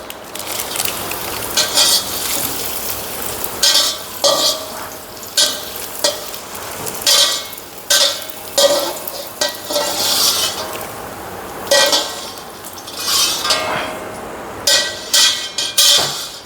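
Raisins frying in a pan for jaggery rice, a steady crackling sizzle with repeated bursts of scraping and clinking as the pan is stirred, close and fairly loud.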